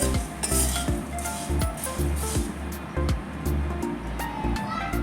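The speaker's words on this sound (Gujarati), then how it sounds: "આપણા મમરા પણ સરસ શેકાઈ ગયા છે" Dry puffed rice rustles and sizzles as it roasts in a hot pan while a spoon scrapes and clinks against the metal in a steady stirring rhythm.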